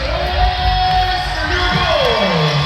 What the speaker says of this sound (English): A lot of noise going on in the Coliseum here.